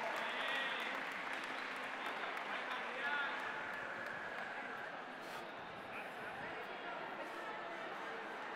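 Sustained audience applause at a school robotics competition prize ceremony as a first-place team is announced, a steady, even roar of many hands clapping at a distance, fading slightly toward the end, with faint voices underneath.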